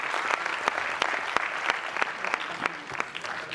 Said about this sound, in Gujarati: આપ સૌને માટે એક તાળી થઈ જાય.